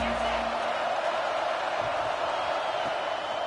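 A stadium crowd roars at a college football game against Pitt, a loud, steady wash of cheering noise that fills the whole stretch without letting up, heard from within the stands.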